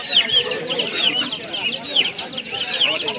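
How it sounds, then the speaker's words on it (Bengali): Chickens and roosters, brown cocks and farm hens, cluck and squawk at a busy rural poultry market in Kapasia, Bangladesh, a dense overlapping chorus of close, repeated sharp calls. "ব্রাউন কক এটা ফার্মি মুরগি"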